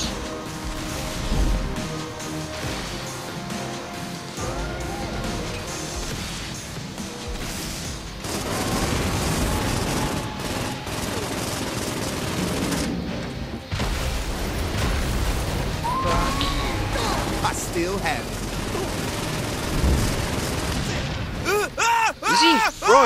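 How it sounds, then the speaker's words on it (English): Rocket launcher blasts and explosions in the video game Saints Row, loud booms and bursts of fire that run continuously under someone talking, with a crackling pop near the end. "Eat rocket launcher to the nuts."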